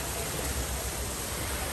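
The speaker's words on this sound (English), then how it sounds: "The waterfall." A waterfall in San Juan, Puerto Rico, gives off a steady, even rushing roar that fills the whole short stretch without a break. It sounds close and constant, with no clear voices over it.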